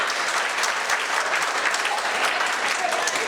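A large crowd in Mulund, Mumbai, claps warmly at a Hindi poetry gathering marking Maharana Pratap Jayanti. The applause is thick and continuous, close and loud, with a faint murmur of the crowd beneath it.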